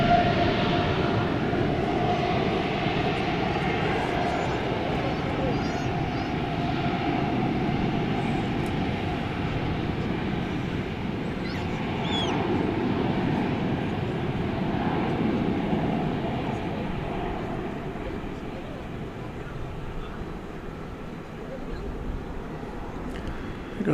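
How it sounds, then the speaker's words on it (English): A Turkish Airlines Dreamliner taxis out of Terminal D at DFW Airport at night as a steady, loud, broad jet engine roar that holds throughout with slow swells. "Here goes the Turkish Dreamliner, pulling out of Terminal D, headed to Istanbul."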